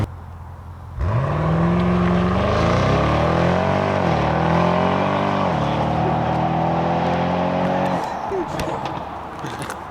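Car launching hard from a standstill, the engine suddenly roaring up and climbing steadily in pitch with a brief shift dip, loud and close, before easing off near the end, with voices faintly underneath.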